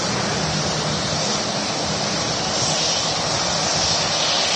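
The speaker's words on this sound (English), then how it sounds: "Next aircraft to arrive, just in sight now, is the Smart. It's the SAS, but being operated by SmartLink. It's one of the SmartLink's A320s" An SAS-liveried Airbus A320 flown by SmartLink arrives at Manchester Airport, its engines giving a loud, steady broadband roar that holds evenly throughout with no voices.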